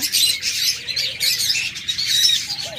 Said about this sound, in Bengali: প্রথমে শুরু করতেছি এক জোড়া ককাটেল দিয়ে